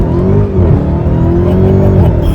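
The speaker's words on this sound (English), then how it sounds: "you light up the tires every time you go half throttle or more" A bone-stock Dodge Hellcat launches hard at half throttle or more, its engine roaring loud and close while the rear tires break loose and spin with a rising whine, with no pause for about two seconds.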